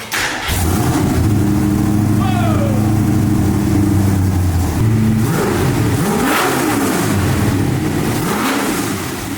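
A 1965 Ford Mustang V8 with a freshly fixed vacuum leak idles loudly and steadily, then blips its throttle in a few rising and falling revs near the microphone.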